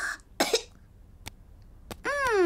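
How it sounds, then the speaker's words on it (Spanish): Cartoon piglet George from Peppa Pig coughs at a doctor's check-up, giving a couple of short, close cough bursts and a few small clicks, then a high, sliding voiced cartoon vocal sound. "Después tose."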